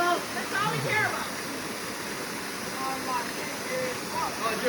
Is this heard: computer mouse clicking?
no